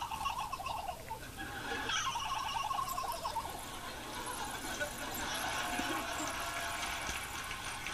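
A person imitates a turkey gobble with warbling, bird-like yelps that rise and fall against a noisy game-show audience and murmuring voices, fairly faint throughout.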